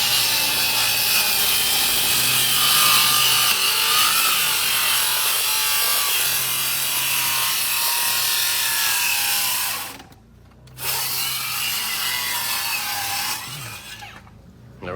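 A saw cuts through a 2x lumber stack and OSB board on a cabin build site, a loud, sustained rasping grind that drops out briefly near the end and then resumes.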